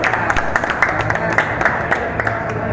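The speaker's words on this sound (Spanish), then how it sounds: "Un aplauso para ella" Studio audience clapping for a guest at the Club Barrio Sur on a televised musical show, a brisk round of applause with distinct individual claps over low background voices and murmur.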